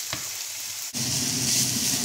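Chopped onion frying and sizzling in a pan, a steady close hiss with a brief pause near the middle, then louder, denser sizzling from stirring, with no talking.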